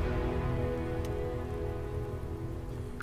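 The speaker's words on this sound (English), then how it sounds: "Freezing liquid rain." Freezing rain falls in the video game Starfield, a dense, steady patter that holds at an even level throughout, with no voices.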